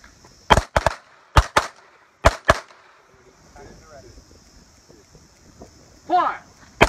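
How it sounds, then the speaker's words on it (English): Gunshots at a shooting range target in pairs and singles: six sharp, loud cracks in quick clusters early on, then quieter range noise with a brief voice and another shot at the end. "We're firing two rounds at a time."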